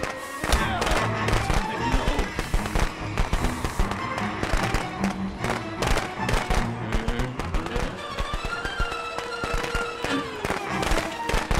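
Rapid bursts of firecrackers crackle and pop continuously in the Friday the 13th video game, dense sharp bangs layered over game music and ambience with a voice faintly present.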